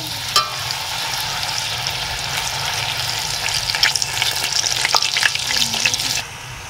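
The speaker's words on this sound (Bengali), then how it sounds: "কড়াইয়ের মধ্যে তেল দিয়েছি, তেল গরম হয়ে গেছে, এবার আমি এগুলো ভেজে নেব।" Bhature frying in hot oil in a kadai, a steady close crackling sizzle with bubbling and occasional stirring clatter, holding level throughout before cutting off near the end, with no voices.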